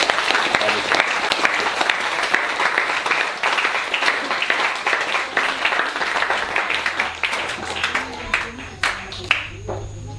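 A church congregation claps and applauds steadily throughout a French-language service in Taravao, French Polynesia, the dense clapping fading slightly toward the end.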